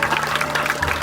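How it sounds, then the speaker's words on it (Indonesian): A crowd at a Balinese temple Calonarang performance honoring Mother's Day claps in a brief, dense burst of applause. "Biar selamat tepuk tangan untuk hari ibu di Bajar."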